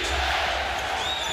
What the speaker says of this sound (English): Crowd on its feet chanting defense.